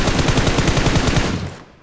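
Rapid automatic gunfire from a video game rattles in a loud, fast burst of evenly spaced shots for under two seconds before cutting off.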